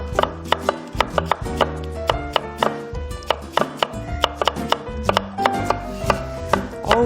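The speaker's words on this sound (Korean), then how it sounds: "이렇게 칼질하는 소리가" A knife chops young radish steadily on a cutting board, quick sharp taps in an even rhythm, close and loud with no talking.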